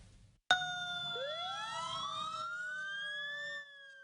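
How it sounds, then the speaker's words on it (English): A fire engine siren starts abruptly and wails upward, a long rising tone with harmonics that holds steady, then cuts off, heard from a distance. "Sirens could be heard all over Champaign County early Tuesday"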